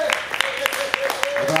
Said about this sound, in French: On peut applaudir ces paroles de Takada Dagan.